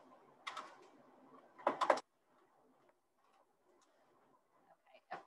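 Bursts of computer keyboard typing, a short run then a denser flurry of quick key clicks, fairly close and moderately loud, followed by near silence with a faint brief clatter at the end.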